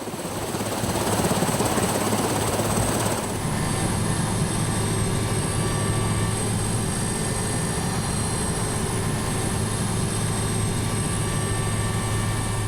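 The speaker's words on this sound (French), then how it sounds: "le Super Puma chargé de passagers décolle à nouveau en direction du nord" A Super Puma helicopter carrying passengers takes off, its rotor and engine roaring steadily at close range, growing louder after a few seconds and holding a constant, heavy drone.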